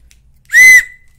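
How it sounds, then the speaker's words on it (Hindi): A small toy whistle from a surprise egg gives one short, shrill, steady toot, loud and close, with silence around it. "फिर और एक सीटी निकली है"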